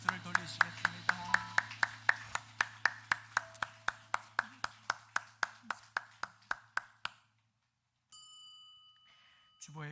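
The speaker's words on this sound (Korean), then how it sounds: "하나님께 감사와 영광의 박수를 돌리시겠습니다" A church congregation at a Sunday morning worship service claps in steady unison, with about two dozen evenly spaced beats over a low hum. The clapping stops abruptly, and a brief ringing tone follows.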